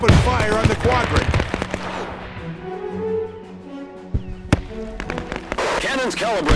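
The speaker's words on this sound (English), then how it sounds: "Ready to open fire on the quadrant." Bursts of gunfire and cannon fire from the World War II strategy game Men of War 2, during an Operation Overlord ruined-city mission, crackle loudly at the start and again near the end, with voices talking in between.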